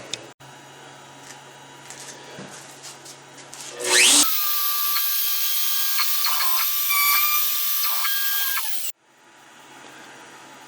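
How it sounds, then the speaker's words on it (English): An X-Carve CNC machine drills a hole into a wooden cribbage board, its loud steady whine with spindle tones holding for about five seconds and then cutting off, with quieter machine noise before and after. "all we need to do now is to drill this hole"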